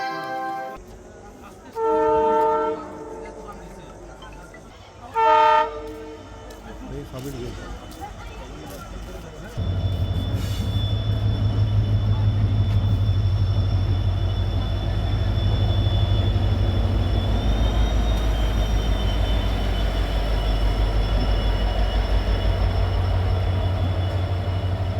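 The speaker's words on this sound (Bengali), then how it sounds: "গাড়ী সংখ্যা 15642 town new Tinsukia Silchar express এই নম্বৰ প্লেটফৰ্মত" Train 15642, the New Tinsukia–Silchar Express, arrives at a station platform. Two loud horn blasts are followed by a heavy, continuous rumble of wheels rolling in, while a voice makes an announcement.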